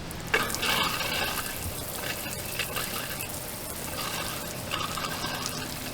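Water spraying steadily from an RV outdoor shower while the plumbing is being winterized, a constant hissing splash heard close by with small fluctuations in flow.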